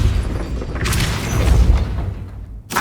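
A Repulsor spell bursts in Hogwarts Legacy, a loud booming whoosh that swells and fades, with another sharp hit at the very end.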